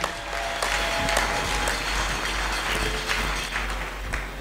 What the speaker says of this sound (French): Les mamans, acclamez, acclamez.